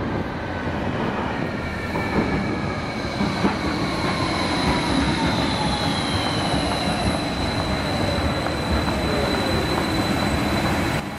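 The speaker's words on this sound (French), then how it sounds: "Un petit tour en tramway pour aller encore plus au sud" Steady loud rumble of a tram ride through Vienna, with wheels squealing in long drawn tones and faint clickety-clack over the rails, heard from inside the car without talk.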